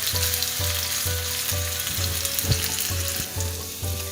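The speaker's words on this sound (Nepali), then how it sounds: "यसलाई केही बेर हल्का रातो रातो हुने बेलासम्म फ्राई गर्नुपर्छ" Paneer cubes frying in a pan until lightly browned, a steady loud sizzle of hot oil with a regular pulsing rhythm and a few sharp spatters, no voices.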